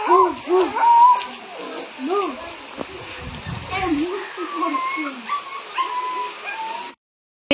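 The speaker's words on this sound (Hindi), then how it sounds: "आसले दुईटा कुकुर छुआ" Two puppies whimper and yelp in high, repeated whines outdoors on a rainy evening, close and fairly loud, with occasional splashing and voices talking over them.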